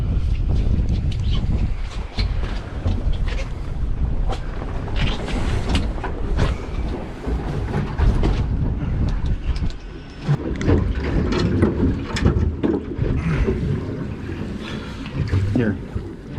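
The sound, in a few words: boat smashing through offshore waves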